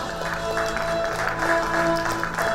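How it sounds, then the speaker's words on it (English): Applause for someone speaker at a startup and investor event, a steady wash of many hands clapping across the whole stretch, with some faint tonal sound mixed in. "Give her a round of applause."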